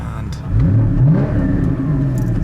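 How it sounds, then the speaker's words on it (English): A car engine revs with a rising and falling mid-pitched drone over a steady idle, heard close with the door open, while a person talks over it. "This car actually sounds brilliant."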